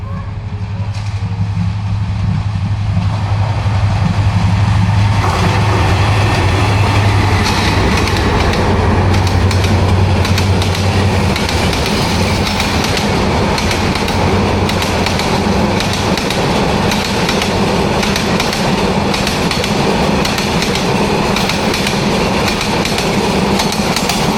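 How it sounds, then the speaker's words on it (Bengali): A train pulls into Arikhola railway station, a small rural stop in Kaligonj, Gazipur, its loud steady rumble and clatter of wagons filling the scene from start to finish, with a low horn-like drone early on. "দূরে ট্রেনের শব্দ শোনা যাচ্ছে মনে হয় একটি ট্রেন আসছে"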